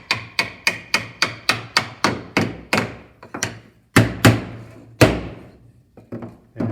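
A wooden bench-top power tool hold-down is tapped into a tight routed slot, giving a rapid run of sharp wooden knocks that slows into a few heavier, spaced thumps, close and loud without talking.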